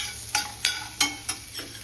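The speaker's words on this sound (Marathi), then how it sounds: "हे सुद्धा छान असं तेलामध्ये परतून घ्यायचं आहे" Vegetables sautéing in oil in a pan for a tricolour pulao, with five distinct stir scrapes spaced about a third of a second apart over a low, steady background sizzle, close and fairly quiet.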